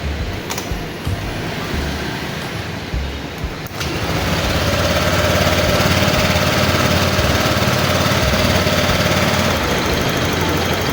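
Honda Click 125 motorcycle engine starts up after a tensioner repair and settles into a loud, steady idle, close by, with a continuous mechanical rattle and hum and no talking.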